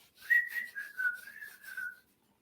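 A person whistles a short, wavering tune of several connected notes for about two seconds, close and clear against a quiet background.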